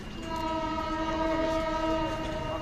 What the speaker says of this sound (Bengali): রেল লাইনের পাশে সুন্দর সুন্দর চেয়ারে বেঞ্চে বসে, ট্রেন তো অলরেডি চলে আসতেছে